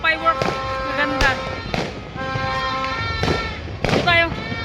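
Several sharp firework bangs crack out at intervals amid whistling tones at a New Year's Eve celebration, with people talking in Filipino in between.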